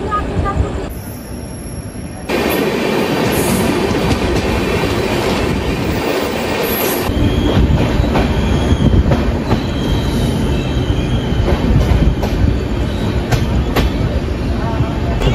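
A passenger train at Bardhaman Junction railway station in West Bengal fills the scene with loud, steady rail rumble, wheel noise and metallic squeal, with a broad hissing wash over it throughout.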